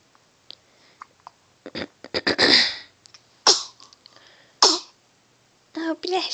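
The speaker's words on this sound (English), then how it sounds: "You sneezing?" Several sharp sneezes burst out one after another, with short quiet gaps, some coughs and a bit of breathing between them.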